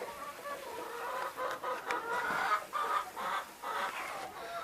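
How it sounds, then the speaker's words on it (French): Alsace hens cluck in a soft, irregular series of short calls, fairly faint and close, with no voices. "j'ai la poule d'Alsace"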